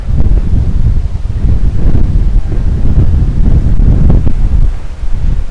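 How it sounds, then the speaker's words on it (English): Loud wind buffets the microphone nonstop outdoors in downtown Miami, a heavy rumbling gust that swells and dips with faint rustling underneath. "Wow, it's windy."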